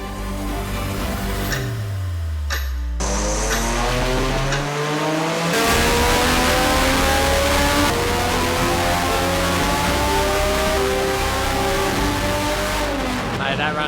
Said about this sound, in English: time to do some more dyno runs and see what power we can make.